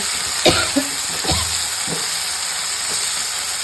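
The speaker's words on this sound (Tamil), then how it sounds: "அதை எண்ணெயில் போட்டு கொஞ்சம் நேரம் ஃப்ரை பண்ணியாச்சு" Garlic, chillies and curry leaves frying in oil with a steady sizzle and hiss, a few sharper spits and stirring clatters near the start, close and continuous.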